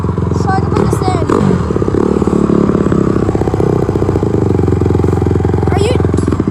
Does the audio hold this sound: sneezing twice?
no